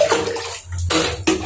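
Tap water running into a basin to bathe a 6-week-old husky puppy, a loud steady gushing stream with a couple of abrupt shifts as the flow splashes differently, close by with no talk.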